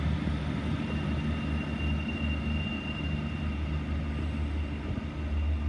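Steady low diesel engine rumble of a Great Western Railway Class 158 train formed of two units at Bristol Parkway, idling or moving nearby, with a continuous drone and no talking.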